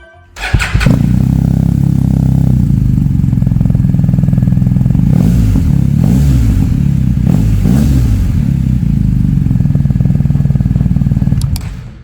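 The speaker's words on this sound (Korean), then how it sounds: "아크라포빅 머플러 소리 한번 들어보겠습니다." A 2022 BMW R1250 GS Adventure motorcycle with an Akrapovič exhaust starts and idles with a deep, throbbing exhaust note, rising in a few revs midway, loud and close for several seconds.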